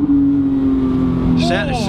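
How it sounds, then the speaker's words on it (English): Close, steady exhaust drone from a car cruising at about 36 mph in a 35 zone, holding an even low hum, with a voice briefly heard near the end. "I don't think I would change the exhaust because really? It sounds great."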